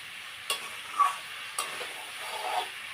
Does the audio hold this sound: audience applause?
no